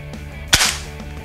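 A single sharp, loud pop of a Gejluk DWP bolt-action air rifle firing, followed by a brief hissing decay over a steady low background hum.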